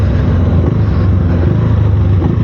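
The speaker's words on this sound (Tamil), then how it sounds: "எக்ஸாஸ்ட் சவுண்டு நல்லா இருக்குது" A 2026 KTM Duke 390 R motorcycle's exhaust drones steadily while riding, a loud continuous low engine rumble with wind and road noise throughout.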